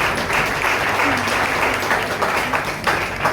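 Steady, loud clapping from a café audience at a slam poetry evening, a continuous dense applause with slight swells, with faint voices mixed into the crowd noise.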